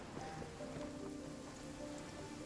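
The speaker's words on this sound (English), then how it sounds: "A stroll in the middle of a downpour certainly rouses the spirit." Steady rain pours down in a Genshin Impact game scene, a continuous, even hiss of a downpour with a soft low rumble underneath and no voices.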